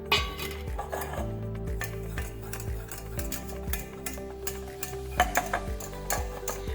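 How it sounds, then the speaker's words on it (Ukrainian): Flour toasting in a sauté pan for béchamel, a spoon or spatula clinking and scraping against the metal in a steady series of close, distinct taps over a low background hum. "В сотейник ми додаємо борошно і обсмажуємо."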